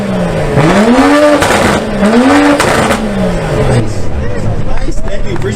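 A turbocharged car with a full straight-pipe turbo-back exhaust revs loudly in three rising and falling pulls, close and raspy, with people chattering in the background.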